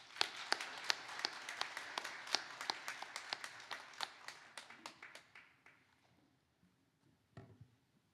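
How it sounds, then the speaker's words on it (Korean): A church congregation at an Easter union service applauds to welcome the city mayor, sharp, quick hand claps at first that gradually slow and fade into scattered claps and quiet. "우리 박수로 환영하겠습니다"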